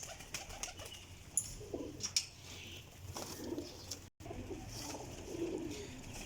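Fakir Gul pigeons coo quietly in a loft, low soft murmuring calls with faint rustling and a few sharp clicks.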